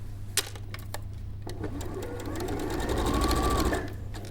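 A sewing machine stitches across a garment's neck seam, a fast rhythmic mechanical whir and clatter that grows louder toward the end, with a steady low hum beneath.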